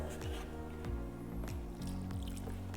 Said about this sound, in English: Then we add some water